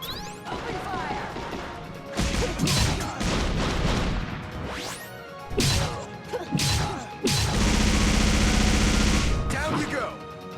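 Loud gunfire and crashing impacts burst in the side-scrolling game Indivisible, with rapid volleys, sharp smashes and a long sustained barrage near the end, mixed with game sound effects.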